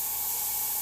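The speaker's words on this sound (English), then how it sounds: "I'm just spraying air before I pull the trigger" An airbrush blows a steady stream of air with no paint yet flowing, a continuous soft hiss that holds evenly throughout, close and moderately quiet, while tiki artwork is painted.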